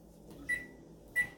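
A microwave oven heating chocolate chips gives two short, bright electronic beeps about half a second apart over a faint low hum, quiet and close, with no talking.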